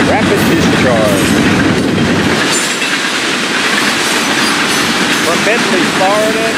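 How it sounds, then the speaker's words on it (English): FEC freight unit train of rapid-discharge hopper cars rolling past close by, with loud continuous rumble and clickety-clack of wheels and faint squeals, while a voice talks over it. "On the unit train, this train carrying all hopper cars, rapid discharge."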